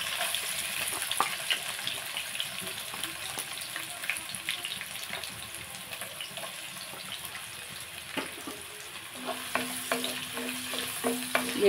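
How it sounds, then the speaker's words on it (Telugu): Green chillies and onions fry in hot oil while being stirred, giving a steady soft sizzle broken by spatula scrapes and light clinks that grow busier near the end, with no talking. "ఆయిల్ హీట్ ఎక్కింది కదండి, ఇందులో మనం కొన్ని పచ్చిమిర్చి వేసుకుంటున్నాను, కొన్ని ఆనియన్స్ వేసుకుంటున్నాను"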